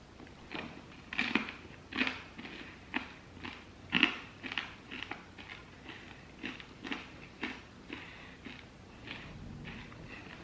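Repeated crunchy bites into a microwaved InnovAsian Del Corazón chicken empanada, a dozen or so close, crisp crunches in an uneven chewing rhythm, loudest early on and softening toward the end.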